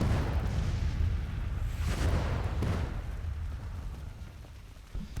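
Artillery fire in Grand Tactician: The Civil War, a dense rumble of booms and bursts rolling on throughout, with heavier blasts near two and three seconds, loud and steady with no talk.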